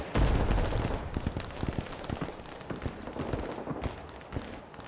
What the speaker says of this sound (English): Might as well have some additional gunfire on those guys.